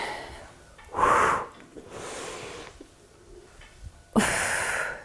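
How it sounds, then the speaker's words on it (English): A woman doing a home workout exercise takes heavy, forceful breaths: three loud, airy exhales spaced a second or two apart, close to the microphone, with quiet stretches between them. "Breathe out, breathe in."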